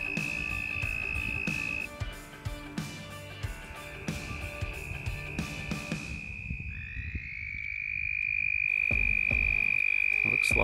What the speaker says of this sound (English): Looks like we have a pair of red-spotted toads right here behind this other male that's calling